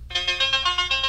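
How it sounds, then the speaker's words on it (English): A bright electronic melodic phrase in the style of a phone ringtone, made of quick repeated tonal notes, played loud and clear with no voices over it. "So that would be a good ringtone, wouldn't it?"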